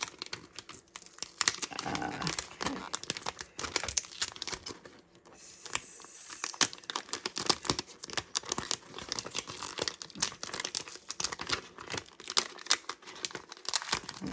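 Crinkling and tearing of an Infusible Ink transfer sheet being carefully peeled off a star-pattern design for a Cricut wine bag, with close, irregular crackles and rips and brief pauses throughout.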